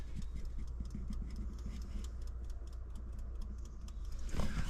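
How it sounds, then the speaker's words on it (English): A tachograph in a classic Kenworth truck ticks steadily and faintly, like a clock, over a low constant engine rumble inside the cab. "it almost sounds like the tachograph is ticking"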